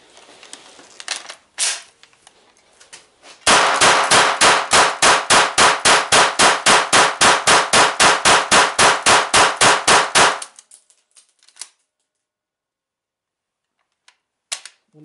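A GSG MP 40 9mm PAK firing a full magazine of blanks in one loud, rapid, evenly spaced automatic burst lasting about seven seconds, with a few scattered clanks and handling noises before and after.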